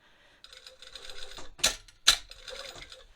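A sewing machine top-stitching jersey knit fabric for a Rhapsody dress hack, giving a fast mechanical clatter with two sharper knocks in the middle, close and fairly quiet.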